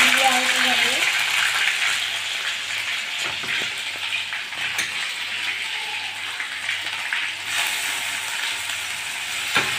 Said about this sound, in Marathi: पेस्टला थोडं परतून घेऊया।